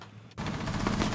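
Rapid automatic gunfire in Rainbow Six Siege starts abruptly and keeps going as a dense, loud, evenly spaced burst to the end.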